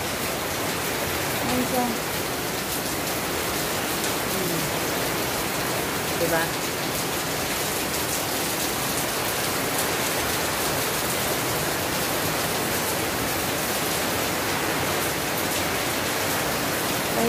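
Heavy rain pouring steadily in a downpour with strong wind, a dense continuous hiss throughout, with a voice speaking briefly over it.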